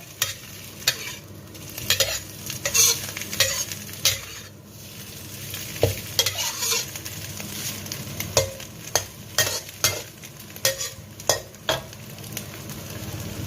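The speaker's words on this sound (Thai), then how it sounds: "เราก็ใส่ไข่ได้แล้วค่ะ ก็ผัดกลับไปกลับมานะคะ" Egg being stir-fried in a pan for a Thai basil omelette dish, with a steady sizzle broken by repeated scraping strokes of a spatula, close up and with no talk.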